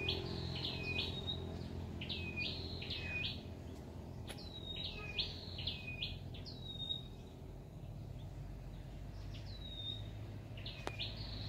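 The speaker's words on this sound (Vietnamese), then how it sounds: "có tiếng chim hót ríu rít nữa," Birds chirp and tweet in bright repeated bursts during a morning outdoors beside a flowering tree, with steady background hum and no talk.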